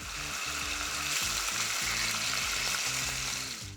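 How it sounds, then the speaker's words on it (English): Chicken sizzles steadily in a hot pan, a loud, continuous crackling hiss with faint stirring beneath it. "I'll start by getting this chicken cooked."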